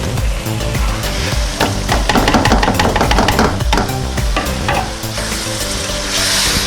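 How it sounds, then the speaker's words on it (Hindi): Urad (mash) dal frying and being stirred into spices in a pan: a loud, continuous sizzle with repeated scraping and knocking strokes of a spoon against the pan, steady throughout with no talking. "2 से 3 मिनट माश की दाल को मसाले में अच्छे से भुनें।"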